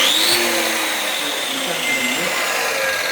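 A wall chaser fitted with a channel-cutting head slices a 4 cm deep groove into plastered pumice block indoors, giving a loud, steady, continuous grinding whine with a high motor tone throughout.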